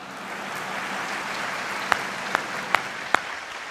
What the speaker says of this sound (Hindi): सब ज्यादा तालियां अधिकारियों ने बजाई है इस बात पे